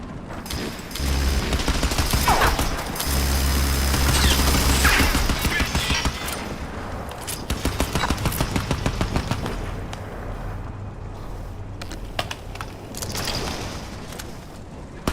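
Dense sustained gunfire from Crysis 3, rapid automatic bursts and booming shots layered over a low rumbling game soundscape, loud and continuous throughout with brief lulls.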